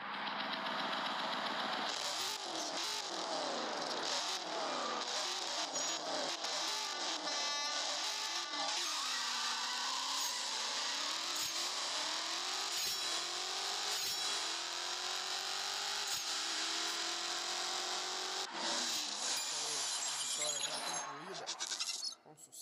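Racing car engines in the CSR2 drag racing video game roar loudly and continuously, with repeated rising and falling revs and gear-shift sweeps, while a person talks over them.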